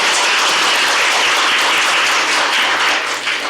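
Sustained audience applause at a Korean political seminar on North Korea and unification, loud and dense throughout, easing slightly at the end.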